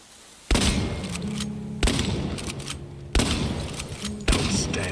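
A shotgun fires four times in the video game Chernobylite, each blast a loud, sharp boom with a long rumbling decay, spaced roughly every one to one and a half seconds.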